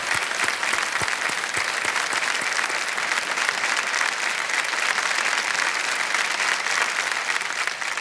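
Studio audience applause on the Kaun Banega Crorepati set with Amitabh Bachchan, dense and steady clapping filling the room at full volume throughout, with no voices heard above it.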